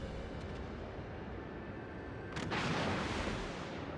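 The Yamato battleship's 460mm main guns fire in World of Warships, giving a deep, rumbling boom over a constant low engine and sea drone. The swell starts midway and lingers. No one talks.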